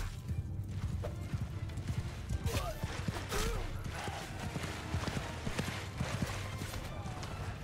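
Horse hooves gallop in a steady, repeated clip-clop rhythm with occasional neighs in Mount & Blade II: Bannerlord, continuous over game ambience and music.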